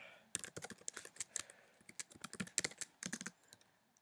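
Computer keyboard typing while entering Lua code: rapid, uneven bursts of light key clicks, close but quiet, with short pauses between runs.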